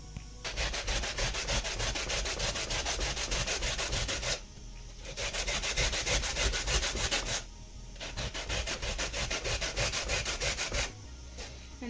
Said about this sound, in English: when you're grating your coconut